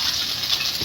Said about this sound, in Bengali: এই ডিম আর পাউরুটির মিশ্রণটা আমি এবার কড়াইতে দিয়ে দেবো